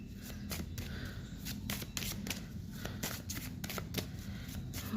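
Tarot cards being shuffled by hand, a continuous close riffling and slapping with sharp flicks recurring through the whole stretch, no voice over it.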